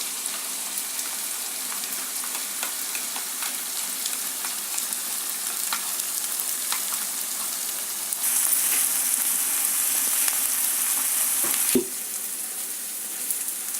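Onion and ginger paste frying in hot oil for rajma masala gives a steady, close sizzling hiss with no voices; the hiss swells louder for several seconds near the end, then a brief knock cuts in as it settles back.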